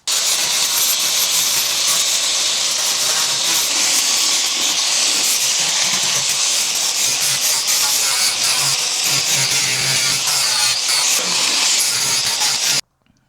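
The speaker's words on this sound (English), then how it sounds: "Try to make this pretty with the grinder now." Power grinder smoothing a repaired, formerly rusted car body panel in a home garage, a loud continuous hissing whine that runs steadily for about thirteen seconds before cutting off abruptly.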